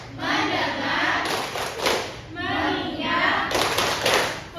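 Schoolchildren in a classroom join a teacher in the 'tepuk fokus' clapping chant, rhythmic hand claps mixed with group chanting voices, moderately loud and close throughout.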